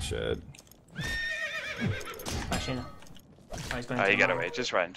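Horses neigh and whinny in a video game match, a loud whinny rising mid-clip and another burst near the end, amid hoof clatter and game noise while players talk excitedly over it.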